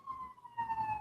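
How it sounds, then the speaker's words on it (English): A siren passes by outside, a steady wailing tone that rises in loudness partway through, heard faintly over low room noise with no speech during the moment. "I don't know if y'all can hear the siren coming by."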